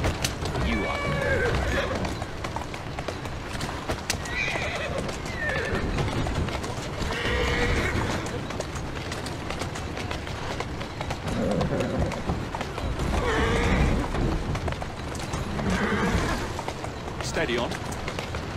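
Horses neigh and whinny repeatedly with hooves clip-clopping at a steady trot in the Victorian London setting of Assassin's Creed Syndicate, over continuous game ambience and voices talking.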